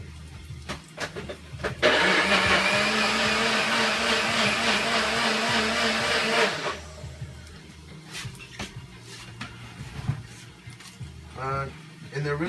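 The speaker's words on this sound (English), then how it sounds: "Then you blend it." Blender pureeing tomatoes, garlic, onion and water runs loud and steady for about five seconds, then stops, with kitchen sounds and people talking around it.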